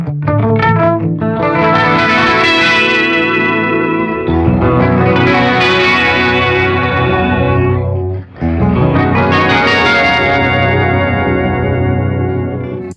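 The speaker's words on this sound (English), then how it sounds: "Stairway, that adds some arpeggiated notes to your signal." An electric guitar plays through the Stairway effect of a Zoom MultiStomp MS-70CDR pedal, spreading its notes into shimmering cascading arpeggios, loud and continuous in three long phrases with a brief gap.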